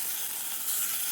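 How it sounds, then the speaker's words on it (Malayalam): Mustard seeds, dried chillies and curry leaves sizzle in hot oil for a curry tempering, a dense, even, close hiss that holds steady with no voices over it. "ഇനി ഇതിലേക്കൊരു വറവാണ് തയ്യാറാക്കുന്നത്."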